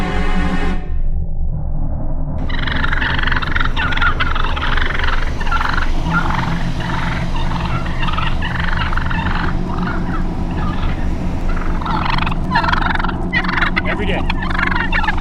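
Wild turkeys in Cambridge, a flock gobbling loudly and continuously, with overlapping rattling calls that crowd close together and carry on for the whole stretch without voices.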